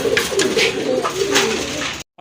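Golla pigeons at a pigeon seller's coop give a close, fairly loud stream of low, overlapping coos that murmur steadily for about two seconds, then cut off abruptly into silence.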